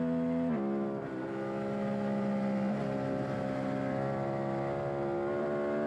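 A 76-horsepower Suzuki SV650 race motorcycle screams around a track lap, its engine note loud and steady. The pitch dips briefly as it shifts near the start, then climbs again as the bike keeps accelerating.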